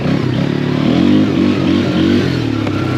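Polaris Scrambler 500 H.O. ATV engine revving steadily up close, a loud continuous motor drone with slight surges in pitch and no voices.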